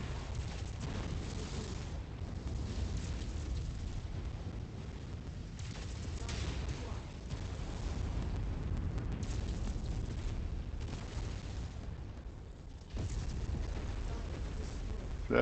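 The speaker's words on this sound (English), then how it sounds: "Fire the Gauss." Heavy weapons fire from a mech in MechWarrior 5: Mercenaries, with a Gauss rifle discharging amid a dense, continuous roar of booms and explosions that fills the whole stretch at loud, steady volume, with no speech.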